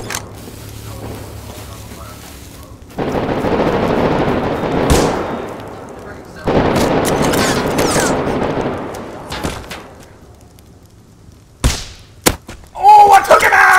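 Rocket blasts and gunfire in the survival game Rust: repeated loud explosions with long rumbling bursts of shots and sharp cracks, sometimes under voice chat.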